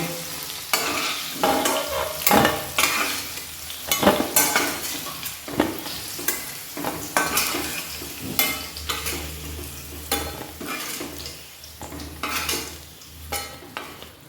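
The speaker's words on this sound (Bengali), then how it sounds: "আলুটাকে লাল করে ভেজে নেব" Potatoes fry in a pan for a mocha chingri dish, a soft steady sizzle broken by repeated scraping and clinking as a spatula stirs them against the metal, close and moderately quiet, with no voices.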